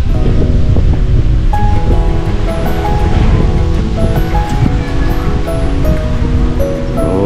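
Surf washing onto a white sand beach beside cottages and a shower area, a steady loud broadband roar with rolling swells and some wind noise, no talk.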